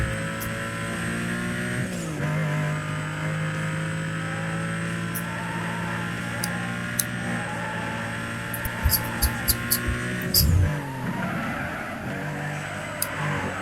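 Sports car engine in Need for Speed Most Wanted, a steady high-revving drone with a gear-change dip at about two seconds and another near ten seconds, plus short clicks and a thud.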